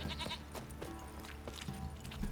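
A sheep bleats faintly in The Witcher 3 on PS5, a few quiet calls set against soft in-game ambience.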